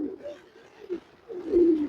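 Rain-soaked pigeons in an open cage give short, soft, low cooing calls, a couple of murmuring coos heard up close within a brief moment.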